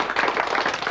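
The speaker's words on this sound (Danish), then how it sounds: "Skal vi ikke klappe ham en gang, nu han har fået udstyr på?" A crowd claps for a speedway rider at a 1983 Danish speedway event, a brief burst of dense, steady applause, close and fairly loud.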